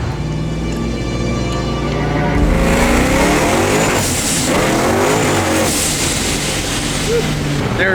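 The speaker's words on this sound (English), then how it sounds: "We're making boost, let's go." A turbocharged Acura RSX accelerates hard on an airstrip, its engine droning loudly from inside the cabin as it climbs through the revs, with a gear change and rising wind noise, and people talking over it.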